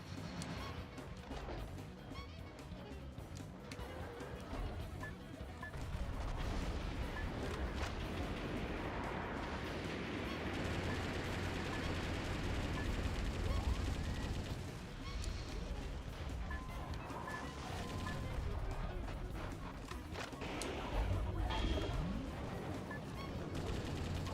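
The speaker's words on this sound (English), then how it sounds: "The missiles are airborne." Missiles launch and burst in the Metal Wolf Chaos XD video game, a dense, sustained barrage of rumbling explosions and crackling gunfire that swells and fades over about twenty seconds.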